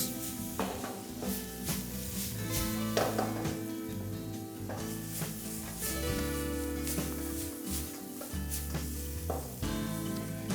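Vegetables cooking in a pot of water brought to a rolling 100-degree boil give off a steady, close sizzling and bubbling hiss that runs continuously, with occasional stirring and clatter over a constant tonal hum.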